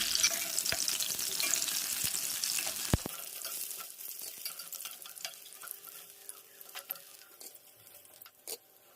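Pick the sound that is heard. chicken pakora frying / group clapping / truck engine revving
chicken pakora frying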